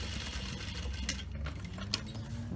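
A sewing machine stitching steadily around a denim jean hem, a continuous close mechanical whir and rapid needle clatter over the whole stretch, with no talking.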